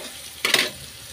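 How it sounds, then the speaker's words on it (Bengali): Onions fry in a pan with chopped chilies and split ginger, giving a steady low sizzle that swells briefly into a louder hissing burst as the pan is stirred, then cuts off. "তাতে পেঁয়াজটা ভাজা ভাজা হয়ে যাবে"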